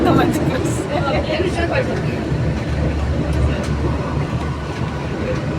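Hong Kong tram descending from Barker Road rumbles and rattles steadily from inside the car, with clacking over the rails and people talking over the noise.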